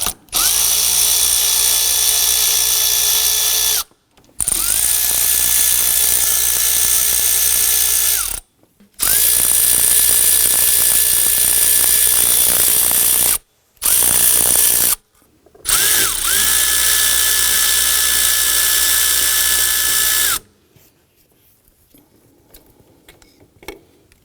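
Four 8mm throttle body screws being loosened on a 2015-2020 Ford F-150, heard as loud buzzing power-tool bursts of several seconds each, separated by short silent gaps, with a quieter ticking tail at the end.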